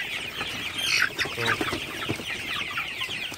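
Golden super hybrid chickens cluck at night in their shed, a few soft, close clucks and murmurs in quick succession, with a brief voice at the start.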